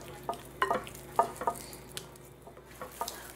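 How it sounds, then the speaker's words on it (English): Soft wet squelches and light slaps come from hands massaging a spicy oil and olive oil marinade into raw lamb chops, a few quiet irregular squishes close by. "Next, mix or massage everything into the meat."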